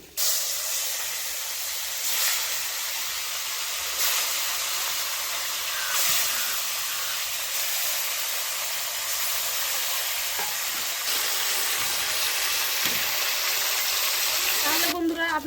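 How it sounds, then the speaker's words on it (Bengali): Fish frying in hot oil in a kitchen pan, a steady close hiss and sizzle running throughout with occasional soft clinks of stirring. "বাকি মাছগুলো ভেজে নিব"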